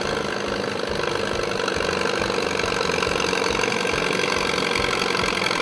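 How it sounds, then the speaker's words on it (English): An Allis-Chalmers WD antique tractor engine runs loud and steady at a county fair tractor pull, with a continuous rough, knocking drone and no voices. "Here's an Alice Chalmers WD. He revs and releases the clutch."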